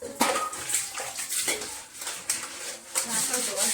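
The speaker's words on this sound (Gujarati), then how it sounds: "અને મમ્મી આ સાઈડ વાસણ ધોવે છે." Dishes are washed at a sink at home, with running water and repeated clinks and knocks of pots and utensils coming in uneven bursts close by.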